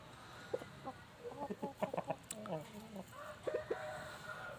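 Farm chickens cluck in short, scattered bursts, faint and somewhat distant, over a steady background hiss with a voice talking quietly in between.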